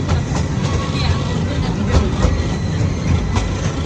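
A train rolls past close by at a railway level crossing with the gate down, a steady dense rumble of wheels on track holding throughout with faint rhythmic clacks.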